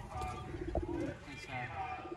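Sialkoti pigeons coo softly in a loft, a low repeated call rising over a steady background murmur.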